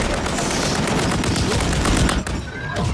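Rapid gunfire in the video game Call of Duty, with dense bursts of automatic shots and overlapping blasts in a loud, busy battle soundscape.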